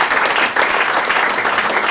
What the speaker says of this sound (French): qu'on applaudit bien fort.